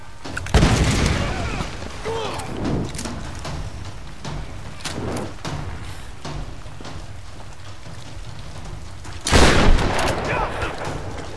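Heavy shotgun blasts from Tomb Raider boom out loud and close, one near the start and another later, separated by quieter scuffling and softer impacts, with a player talking in between.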